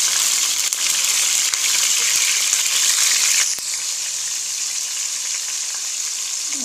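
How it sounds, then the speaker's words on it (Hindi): About 300 grams of frozen minced meat (keema) hisses in a hot pan while cooking with kachnar, a loud, steady sizzle that drops to a softer, quieter fry after a few seconds. "और अब हम इसमें तकरीबन 300 ग्राम कीमा है जो डालेंगे। ये कीमा फ्रोजन है।"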